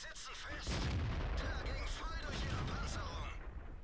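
Tank gun fire in World of Tanks: a deep boom and rumbling blast with a lingering roar and low battle noise, loud and close, with no clear talk over it.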